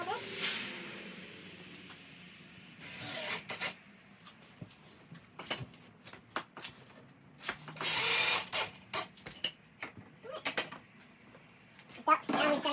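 Short bursts of a power drill driving screws into garage shelf framework, close and fairly loud, separated by quieter stretches with someone talking between them.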